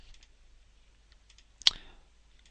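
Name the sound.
computer mouse right click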